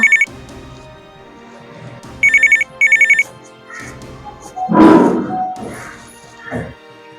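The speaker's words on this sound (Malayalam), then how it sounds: "ഫോൺ ബെല്ലടിക്കണ്ടല്ലോ ആരാപ്പാ" A phone ringtone sounds loudly in short repeated electronic bursts, then breaks off as a person speaks and knocks something nearby.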